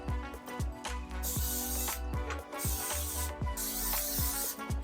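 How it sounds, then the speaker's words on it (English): Several short hissing bursts of a coconut oil spray can onto tortillas, rhythmic pumps close by, each a quick whoosh with brief pauses between. "all I do is spray with a little coconut oil, both sides."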